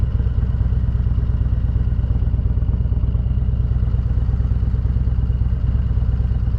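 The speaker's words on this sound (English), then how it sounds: "it's a very comfortable motorcycle to maneuver at low speed." A Harley-Davidson Road King Special with a 131 cubic inch engine rumbles at low speed, a steady loud pulsing idle-like throb throughout with no talk.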